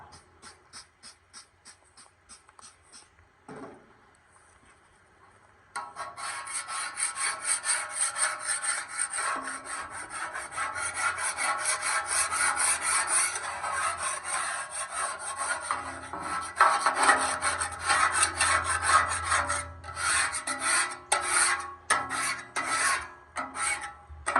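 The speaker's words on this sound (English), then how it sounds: "now with this pumice stone that the Griddle grill cleaning kit comes with, we're going to hit these rust spots" A handheld pumice stone scrubs rust spots off a Blackstone griddle's steel cooktop, first in a few light strokes, then a long stretch of loud, continuous rasping back-and-forth grinding up close, with brief pauses near the end.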